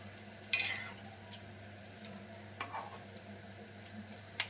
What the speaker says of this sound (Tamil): இப்போ நான் கொஞ்சம் திருப்பி விட்டுறேன் எல்லாத்தையும்